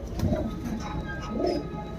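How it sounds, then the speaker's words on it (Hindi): Soft, low cooing of pigeons, a couple of murmuring calls close by over faint background hum. "कुछ गोले कबूतर आए हुए हैं अंदर की तरफ"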